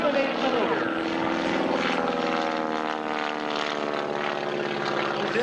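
Aerobatic propeller airplane with a 220 hp Continental engine performing at an air show, a steady loud droning engine roar with a sustained harmonic buzz that holds without pause, with an announcer talking over it.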